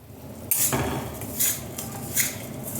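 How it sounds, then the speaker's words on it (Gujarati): Spoon scraping and clinking in a pan as jaggery melts with a spoonful of ghee for black sesame chikki, a few sharp metallic scrapes and knocks close up over a low background hum, no talk. "ગોળને સતત હલાવતા રહેવાનું છે"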